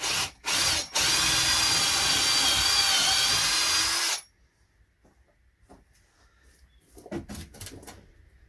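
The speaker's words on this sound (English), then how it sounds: "I'm going to drill a hole in the side at a bit of an angle" A power drill whirs at an angle into the wooden side of a greenhouse hotbed in a few short bursts, then one long steady grind that stops abruptly, followed by quiet handling clatter.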